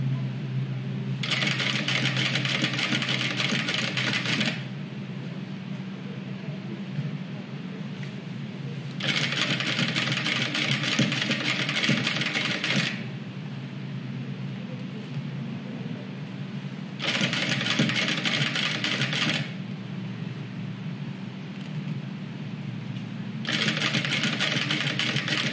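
A sewing machine stitching a fabric hygiene kit, running in long steady bursts of fast rhythmic whirring separated by pauses with a lower hum, close and loud, with no talk.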